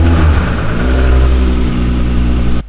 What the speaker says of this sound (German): Der Anlasser rein und das Ding läuft.